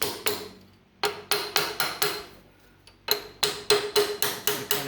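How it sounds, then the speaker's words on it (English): A hammer taps an old bearing race against a new race on a John Deere A tractor, making sharp metallic knocks in two quick rhythmic runs separated by a brief pause, close and without talk. "So I'm gonna try just tapping against it here."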